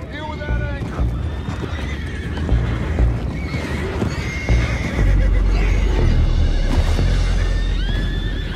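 Horses in the Red Dead Redemption 2 video game neigh and whinny several times over steady clip-clopping hooves, with shouted voices mixed in.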